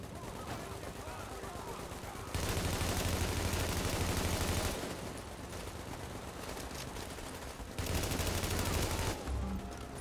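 Automatic turrets in a video game fire in loud, dense, sustained bursts, two long volleys separated by a slightly quieter stretch of continuous gunfire.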